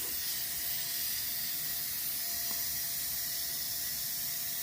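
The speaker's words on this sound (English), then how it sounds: "It'll take, a little bit for that steam to come out" Steam hissing out of a pot of cooking ribs: a steady, even hiss that runs without pause, soft and continuous, with no voices over it.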